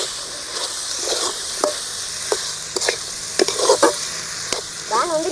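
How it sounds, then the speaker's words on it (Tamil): Potatoes being stirred in a hot frying pan while cooking potato podimas, with scattered spatula scrapes and clicks over a steady background sizzle, no talking. "உருளைக்கிழங்கு போட்டுக்கலாம். போட்டு நல்லா கிளறிக்கலாம்."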